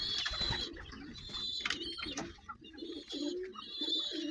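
Pigeons coo softly in low, repeated murmurs, with thin high begging chirps from young pigeons mixed in nearby.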